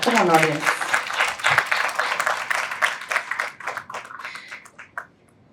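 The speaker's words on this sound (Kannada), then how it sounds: "ಚಪ್ಪಾಳೆ ಸದ್ದು ಕೇಳಿಸ್ತೀರ" A film-event audience claps for a guest arriving on stage at a Kannada movie teaser launch. Steady, dense applause runs for several seconds under a voice, then thins and stops.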